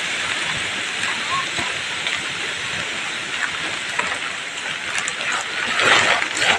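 Steady rain falls through dense jungle in a broad, constant hiss, with water running nearby and a few louder patters toward the end; no voices stand out.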